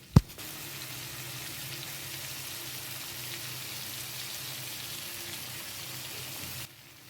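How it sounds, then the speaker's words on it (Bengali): Prawn malai curry sizzles in a pan with an even, close hiss after a sharp clink at the start, holding steady before cutting off near the end. "আর আজ আমি রান্না করছি চিংড়ি মাছের মালাইকারি"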